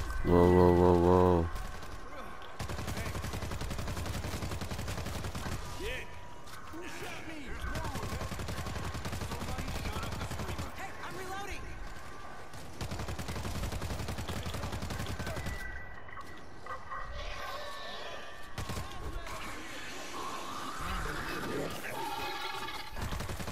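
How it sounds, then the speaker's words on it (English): Bursts of gunfire and rapid automatic shooting ring out in the zombie shooter World War Z, set in New York, with repeated volleys rising and falling over about twenty seconds amid game sounds and voices. "Gunshot!"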